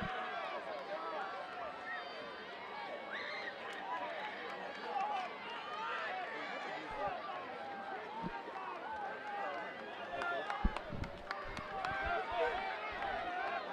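A high school football crowd at Salem vs. Dexter cheers and murmurs across the stands, a broad, busy roar that swells and fades in waves, with a few sharp knocks late on.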